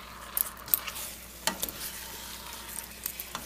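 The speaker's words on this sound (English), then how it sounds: "And I'm going to stir this pork into that caramelized sugar." Marinated pork belly sizzles in caramelized sugar, a steady close frying hiss broken by scattered stirring clinks and scrapes.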